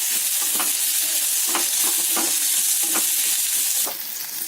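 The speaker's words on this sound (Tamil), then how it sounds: "தேங்காவும் ஆட் பண்ணிட்டு இது எல்லாத்தையும் நல்லா கோல்டன் ப்ரௌன் வர அளவுக்கு வதக்கிக்கோங்க" Onion and coconut sizzle and fry steadily in a pan as they are stirred toward golden brown for a fish curry masala, with scraping clicks of the spoon, the frying hiss easing slightly near the end.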